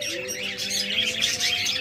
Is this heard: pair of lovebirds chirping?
yes